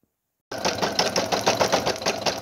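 A Brother single-needle sewing machine satin-stitches the edge of a minky fabric hippo applique, starting abruptly after a brief silence and running close and steady with a fast, even pulsing rhythm.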